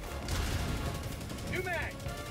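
Muffled gunfire in the video game Helldivers 2: a low, rumbling run of rapid shots, fairly faint and distant, with a short tonal whine cutting through near the end.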